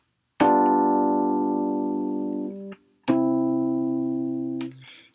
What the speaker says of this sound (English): This is the sound of dominant function.